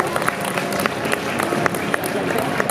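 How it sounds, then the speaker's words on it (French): A crowd at a cosplay convention's out-of-competition costume parade applauds a departing participant. Steady, close clapping fills the stretch, with a few sharper individual claps standing out. "Et on va l'applaudir encore une fois,"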